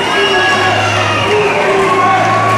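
A boxing arena crowd at the Vukile Magwaza versus Ncubeko Jacobs bout chants loudly and steadily, a dense wall of massed voices with a sustained low hum beneath.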